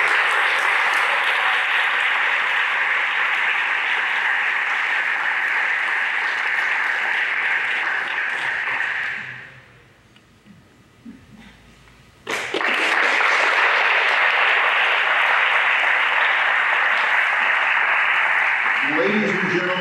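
Loud, sustained applause and cheering at an awards ceremony for a recipient, cutting out briefly to a near-quiet gap before resuming just as strongly.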